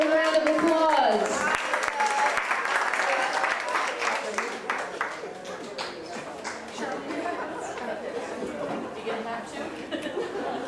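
Audience at an evening community event clapping after a raffle ticket number is called, a loud burst of applause that tapers into lighter scattered clapping, chatter and chuckles, with voices talking throughout.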